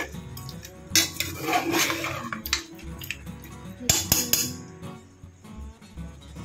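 A spoon scrapes and clinks against a metal cooking pot as mint is stirred into mutton, in busy, uneven bursts close by with no talk.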